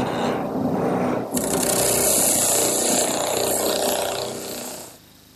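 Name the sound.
oscillating spindle sander smoothing a cut in wood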